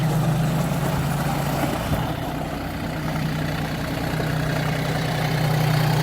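A small engine idles steadily with a low, even rumble and a faint hum, close by and continuous without any talking.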